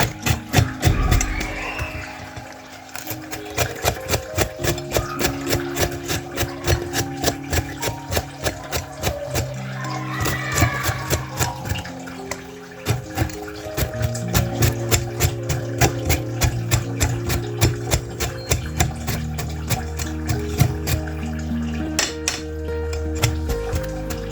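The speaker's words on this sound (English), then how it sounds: "So the first thing we start is by grating our carrot." Carrot scraped briskly across a metal grater in a kitchen, a fast, even train of rasping strokes, close and loud, continuing without pause.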